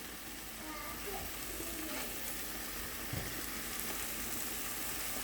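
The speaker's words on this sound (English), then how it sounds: "We're going to put our apples in there, let that stir fry." Apples stir-frying in a pan, a steady soft sizzle and hiss throughout with faint occasional movement, close and fairly quiet.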